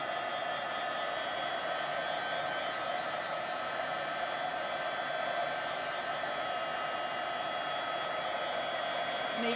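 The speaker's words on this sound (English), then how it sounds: "keeping my heat tool moving so I don't scorch my paper" Embossing heat tool blowing hot air to melt embossing powder on paper, a steady loud hissing whoosh like a hair dryer, continuous and unchanging from start to finish with no voices.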